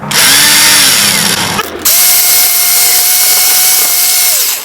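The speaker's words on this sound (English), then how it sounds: "we're just going to go ahead and drill our hole for the anchor" A loud power drill bores an anchor hole into stucco siding outdoors, whining steadily at close range with a brief pause and restart partway through.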